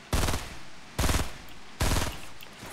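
Bursts of automatic gunfire in Fortnite Battle Royale: three loud, sustained volleys of rapid shots, each lasting around half a second, separated by brief pauses.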